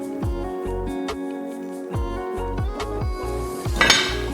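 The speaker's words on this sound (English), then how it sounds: "Add the tempering into the pot where your millets and your moong dal is cooking." A metal spoon clinks and scrapes against a cooking pot as tempering is added to millets and moong dal, a series of sharp clanks and taps with a brief sizzle-like hiss near the end, no talking.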